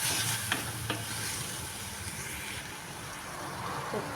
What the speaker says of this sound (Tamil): பாசிப்பருப்பு நான் ஊற வச்சு எடுத்து வச்சுருக்கேன். அதையும் சேர்த்துக்கிறேன். நல்லா கலந்துட்டுக்கொண்டு